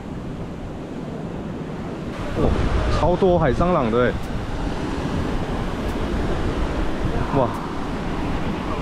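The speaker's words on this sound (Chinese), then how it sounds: "海浪的声音很舒服哎。" Sea waves roll onto a rocky shore in Keelung, Taiwan, making a steady, fairly loud wash that swells briefly partway through, with wind noise and a person exclaiming over the surf.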